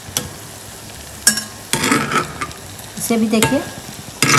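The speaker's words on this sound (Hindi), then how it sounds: "कोफ्ते बहुत अच्छे फ्राई हो गए हैं चारों ओर से।" Malai kofta frying in hot oil and being stirred, with bursts of crackling sizzle and scraping between quieter gaps, close and fairly loud, and a brief spoken phrase.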